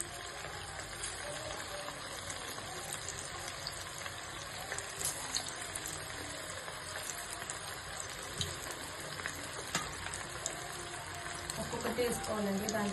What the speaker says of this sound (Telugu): ఇప్పుడు మనం కొద్దిగా చికెన్ ఫ్రై చేసుకొని పక్కన పెట్టుకోవాలండి.